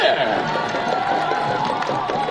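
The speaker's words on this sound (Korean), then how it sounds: "여러분들 큰 박수 부탁드리겠습니다. 다 같이!" Large crowd at a county sports festival applauding and cheering, a broad steady roar of clapping and voices with a loud, continuous texture and no pauses.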